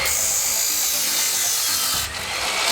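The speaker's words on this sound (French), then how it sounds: "on est en train de couper du bois pour faire notre nouvelle maison pour notre écureuil" A woodworking machine cuts boards for a squirrel house at a zoo refuge, giving a loud, continuous harsh rasping grind. It dips briefly and then surges again.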